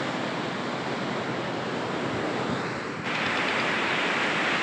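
Water released from ten open gates of the Shetrunji dam gushes in a loud, unbroken roar, swelling slightly brighter partway through, with no voices.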